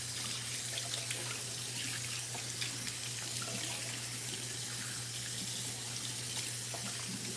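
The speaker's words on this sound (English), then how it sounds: "So all we have to do now is add some water" Tap water runs steadily into a kitchen sink while pie crust is being made from scratch, a continuous close hiss with a low hum underneath and no talking.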